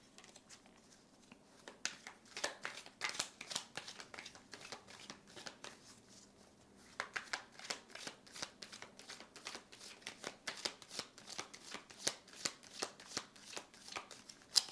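A tarot deck is shuffled over and over, quick riffling bursts and crisp flicks repeating close up, with a short pause midway.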